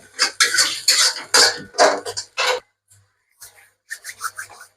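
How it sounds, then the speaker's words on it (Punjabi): A spoon scrapes and stirs masala with chilli as it roasts on full heat in a pan for a black chickpea sabzi. The scraping and rasping comes in dense bursts, then a pause, then lighter strokes. "ਇਹਨੂੰ ਭੁੰਨੂਗੇ ਜੀ ਆਪਾਂ 3 ਤੋਂ 4 ਮਿੰਟ ਫੁੱਲ ਸੇਕ ਪਰ"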